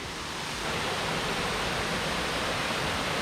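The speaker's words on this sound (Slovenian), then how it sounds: "Prišli smo do Slapa Stopnik." The Stopnik waterfall in Slovenia roars as a dense, unbroken wash of falling water, loud and close, with nothing else audible over it.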